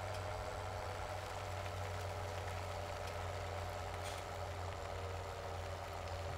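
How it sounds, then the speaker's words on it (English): A tractor engine idles steadily in Farming Simulator 2017, a faint, even low drone that holds constant throughout without speech. "So I will take the tractor back to the farm."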